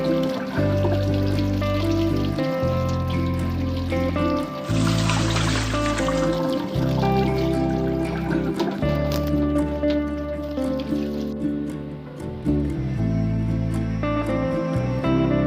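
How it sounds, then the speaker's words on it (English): Fresh strawberries are rinsed under running tap water, a steady trickle and splash with dripping over a constant rushing flow, near and continuous, with no talking. "wash strawberry in running water"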